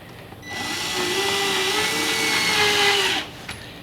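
A power drill drives long screws into a pantry cabinet shelf in one sustained whirring run lasting a few seconds, close and fairly loud, rising in pitch as the screw seats and then stopping abruptly.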